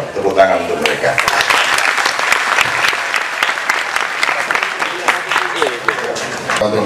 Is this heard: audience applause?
yes